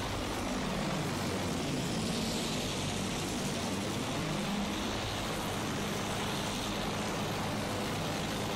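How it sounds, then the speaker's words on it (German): Fighter plane engine in the World War I shooter Battlefield 1, a steady broadband drone with a low throbbing undertone that holds continuously throughout, with no talk over it. "Ich sehe ein Flugzeug!"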